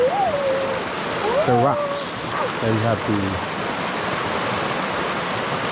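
Stream water rushing steadily at Kanarra Falls in Utah during a hike, a close, constant wash of flowing water with a person talking over it.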